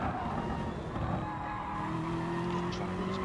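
A race car in a sim racing game at Circuit de Spa-Francorchamps brakes hard, with a steady loud engine roar and a rising tire squeal and skid toward the end, with no voices.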